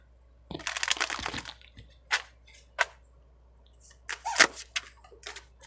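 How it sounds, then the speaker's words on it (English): A shoe squeaks indoors in several short, sharp chirps, one early cluster followed by a few isolated squeaks spaced over several seconds, fairly close and clear over a quiet background. "My squeaky shoe. You heard that?"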